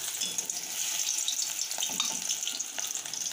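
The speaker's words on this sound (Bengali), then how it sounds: "যেমন মাছ ভাজে ওরকম করে লাল লাল করে ভেজে নিতে হবে এটাকে" Pieces fry in hot oil in a wok with a dense, steady hiss and crackle, punctuated by small popping spatters, close and continuous with no voices.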